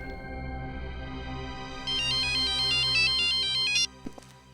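A phone ringtone plays a bright, repeating electronic melody for about two seconds over a low background hum, then cuts off abruptly.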